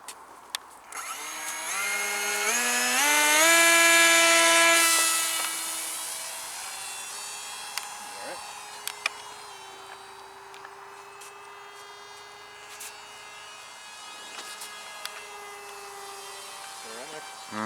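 A 1/20 scale RC MiG-19 propjet model with an electric motor, its whine rising sharply as it launches by hand, then holding a steady buzzing drone as it flies farther away, with sporadic clicks and a voice over it.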